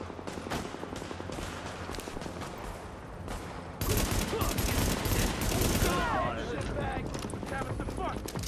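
Rapid automatic gunfire in Tom Clancy's The Division, an urban shooter, rattles on continuously and grows noticeably louder and denser midway through, with layered bursts over a busy background.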